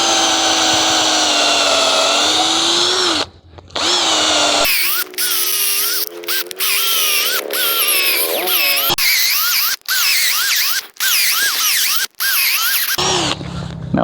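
Power drill boring holes into deadwood logs to make an insect hibernaculum, a loud steady whine that pitches up and down through several short bursts separated by brief pauses, with no talking.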